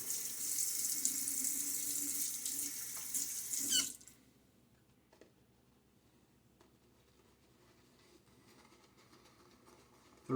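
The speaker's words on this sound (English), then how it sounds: "Now a little bit of water now on my face." Tap water runs steadily into a sink for about four seconds during a wet shave with a Timeless 68 open-comb razor, then cuts off abruptly, leaving near silence with faint small handling sounds.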